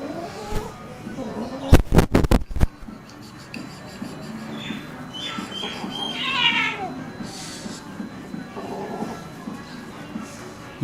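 A cat meows repeatedly while being bathed, its drawn-out cries rising over background noise, with a few sharp loud knocks early on and people talking nearby.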